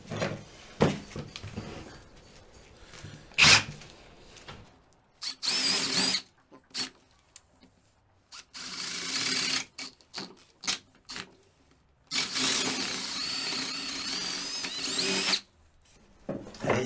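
Power drill boring into a wooden Christmas reindeer piece, several whirring bursts of a few seconds each separated by quiet pauses, close and fairly loud.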